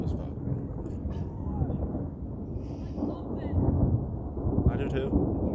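Thunder rolling during a close thunderstorm outdoors, a long deep rumble that swells and fades over several seconds with people talking quietly underneath.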